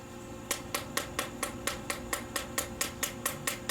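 A Blade City/Viper-Tec Cleaversong balisong cleaver chops down repeatedly, sharp evenly spaced thwacks about every quarter second, close and crisp over a steady background hum.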